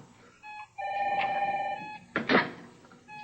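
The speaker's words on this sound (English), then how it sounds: "Your phone rang." A telephone rings in an indoor room, with a steady electronic ringing tone repeating in bursts, followed by a brief clatter as if the handset is picked up; no voices.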